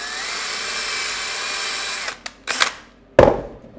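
A power drill bores into a block of wood with a steady high whine, then stops, followed by a few short bursts of the motor revving, close and loud, with no talking.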